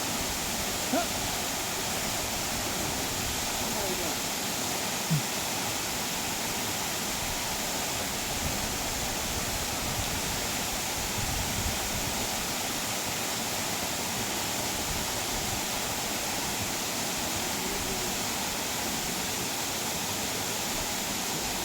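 Steady, loud rushing water fills the scene without a break, a broad constant roar like a stream or waterfall close at hand.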